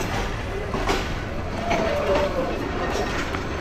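A train rumbles through a large rail yard, a steady, dense wash of wheel and engine noise with a faint metallic squeal drifting in midway.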